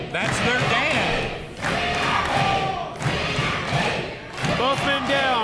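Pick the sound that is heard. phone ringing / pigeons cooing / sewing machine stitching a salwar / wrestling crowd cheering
wrestling crowd cheering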